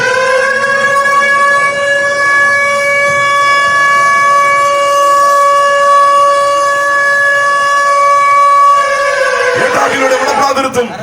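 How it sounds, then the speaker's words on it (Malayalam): A loud, sustained siren wail signalling the start of a boat race, holding one steady tone for several seconds, then breaking off into noisy crowd sound at the end. "സൈറൺ മുഴക്കിക്കൊണ്ട് ഏതായാലും മത്സരം ആരംഭിച്ചു കഴിഞ്ഞു"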